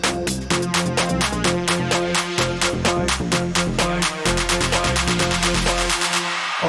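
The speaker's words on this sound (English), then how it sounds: "So this lead is very straightforward. It's a serum preset." A bright lead synth melody from a stock Serum preset uses detuned saw waves inside a tech house track, with loud rhythmic pulsing notes and a beat underneath, playing alone without talk.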